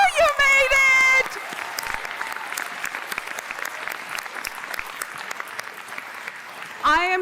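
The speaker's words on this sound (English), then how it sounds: "let's take a moment to applaud and congratulate them" Graduation crowd at a university communication ceremony claps and cheers for the graduates, a sustained, lively round of applause from many hands, framed by a speaker's amplified voice at the start and end.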